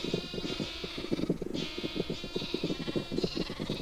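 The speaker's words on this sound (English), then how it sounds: "spawn more sheep" Sheep in the Minecraft video game bleat repeatedly, several overlapping wavering calls following one another in a steady stream at moderate volume, with no talking.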